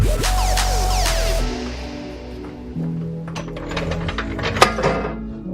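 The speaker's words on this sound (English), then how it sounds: "So now we're gonna bolt the rear subframe back up, along with the new" Bolting the rear subframe and trailing arm back onto a Mazda RX-7 FC: a falling power-tool whir at first, then ratcheting clicks and light metallic clinks close by.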